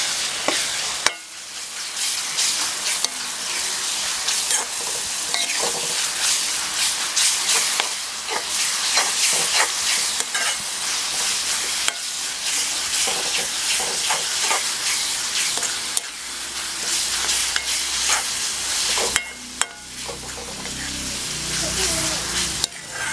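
Ginger and garlic fry in a pan for South Indian mutton curry, a loud continuous sizzle and hiss with frequent stirring scrapes and clatters over a long stretch, and no one speaking.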